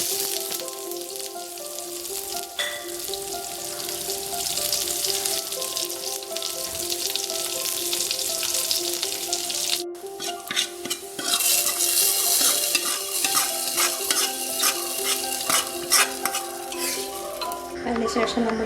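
Mustard seeds and sliced small shallots crackle and sizzle loudly in hot oil, with continuous stirring scrapes and metallic clinks of a utensil against the pan. No one speaks.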